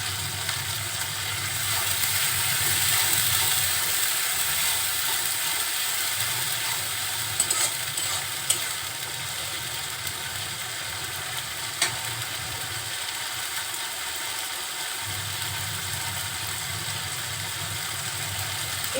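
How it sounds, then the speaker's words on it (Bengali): Spice paste sizzles and fries steadily in a pan for a tomato rohu fish bhuna, a continuous close crackle with occasional clicks of stirring and no speech. "এই মশলাটা খুব সুন্দরভাবে কষিয়ে নিব যাতে কাঁচা কোনো গন্ধ না থাকে।"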